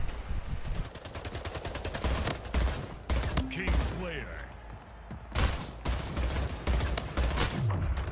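Battle rifle fire in the Splitgate team deathmatch game, with rapid bursts of gunshots cracking loud and close over sustained game noise, pausing midway and then resuming in dense volleys.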